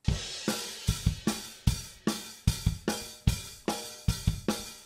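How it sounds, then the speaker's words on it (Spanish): A drum kit plays a steady groove alone, with punchy kick and snare hits and bright cymbal wash, moderately loud and dry. "nosotros tenemos esta batería que por sí sola"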